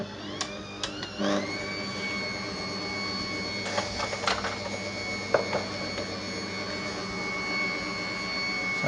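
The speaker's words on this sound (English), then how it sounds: "with the whisk attachment, we're going to start whisking these egg whites up" A stand mixer with a whisk attachment whips egg whites for a lemon pavlova, a steady whirring motor drone with a high whine that ramps up after a brief start, with a few clinks partway through.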